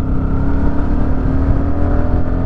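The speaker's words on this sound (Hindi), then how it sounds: "बिल्कुल कंट्रोल में बाइक को भगाएंगे।" A Bajaj Pulsar NS200 motorcycle engine drones and accelerates loudly and continuously while riding in the rain, heard close up with a steady rumbling tone and no talking.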